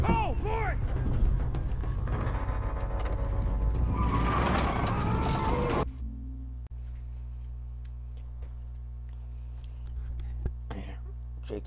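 A truck engine starting and running in the video game The Last of Us, loud steady motor rumble with skids and clatter, then settling into a low idle drone with faint clicks and knocks afterward.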